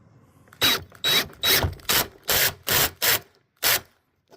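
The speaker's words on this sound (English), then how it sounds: "Next, we're going to cinch down that bolt." Tightening a bolt on the arm of a Lippert power awning on a 2022 Rockwood RV gives eight sharp, close ratcheting bursts in an uneven rhythm, separated by short silences.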